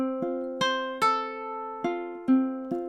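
A ukulele plays a fingerstyle measure using pull-offs: six plucked notes with ringing harmonics, each attack followed by a decaying sustain, clean and close with no talking.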